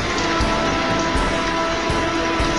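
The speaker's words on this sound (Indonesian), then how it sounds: "Jadi kalau misalkan ada suara deras gitu, berarti itu adalah suara hujan ya." Heavy rain from the video game Diamond Rush falls as a continuous, dense, loud hiss with soft low thumps throughout and no voices.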